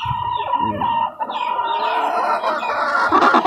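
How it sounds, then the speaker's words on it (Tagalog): An Asil chicken clucks and calls up close in a quick series of throaty, squawking notes, with other fowl noise around it. "Yan yung asil guys na manok ko, yung patubo ko."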